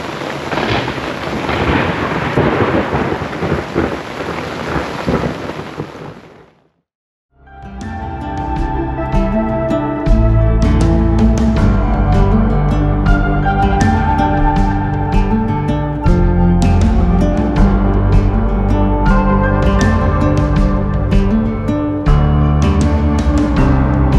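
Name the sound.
thunderstorm with rain and hail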